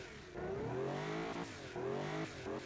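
A 415-horsepower front-mounted engine in the Automation car-building game revving hard, two rising and falling bursts of engine tone, loud and close with no talk.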